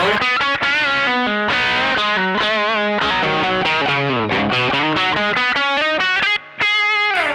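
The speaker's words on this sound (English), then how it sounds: "the overdrive with the compressor gives me like a bright lead sound" A P90-equipped electric guitar runs through Caline overdrive and compressor pedals into a dirty amp channel, playing a bright, sustained lead line of bending, gliding notes with a short pause near the end.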